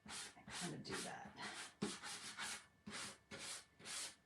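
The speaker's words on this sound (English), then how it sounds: "So I'm just going to take my sanding block and kind of do that" A sanding block rubs along the edges of painted wood in a run of rhythmic back-and-forth strokes, close and steady, each pass a soft broadband scrape separated by brief pauses.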